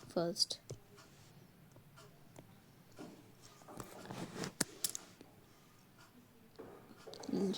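Pen scratching across paper in short irregular strokes, close and quiet, with faint breathy sounds and small pauses between bursts of writing.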